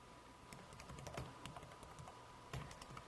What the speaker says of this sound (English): Type in the name of your grandchild.